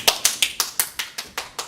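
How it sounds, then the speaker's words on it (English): Ten evenly spaced hand claps, sharp and close, repeating at a steady brisk rhythm with no other sound. "clapping your hand when you walk in somewhere"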